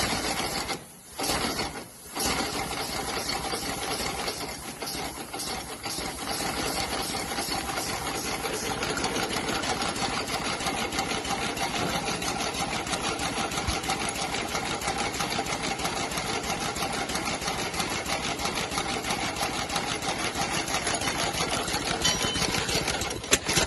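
A steam locomotive with badly worn valve gear runs steadily, giving a fast mechanical clatter and chuffing rhythm that holds for over twenty seconds after a few brief dropouts at the start.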